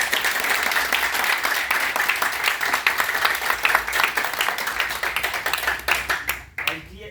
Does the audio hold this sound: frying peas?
no